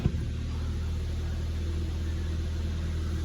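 A car engine idles steadily, a low even rumble held close throughout with no change in pace.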